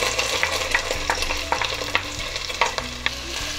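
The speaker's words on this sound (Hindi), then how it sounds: "प्याज को हमने हल्का सा फ्राई करना है" A finely chopped medium onion frying and being stirred in melted butter for Turkish chicken soup: a continuous close sizzle broken by regular scraping strokes of the spoon against the pan, with no voice.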